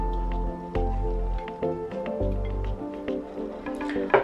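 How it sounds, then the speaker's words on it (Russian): Dough dumplings (vareniki) dropped into lightly boiling salted water, giving a series of soft wet plops and drips with liquid gurgling, close by and fairly quiet, no one speaking. "Бросаем мы наши вареники в подсоленную, немного кипящую воду"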